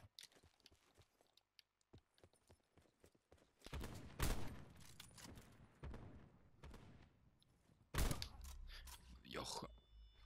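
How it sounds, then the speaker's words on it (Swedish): Sharp bursts of gunfire crack out in Black Ops 4, a heavy shot followed later by another loud blast amid scattered clicks and background noise, with no talking. "Jag ska se vart det där skottet kom."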